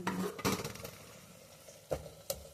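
Green chillies being stirred into a Telangana-style chicken curry in a pan, a few close metallic scrapes and clinks of a spoon against the pan, separated by quiet gaps, over a soft sizzle.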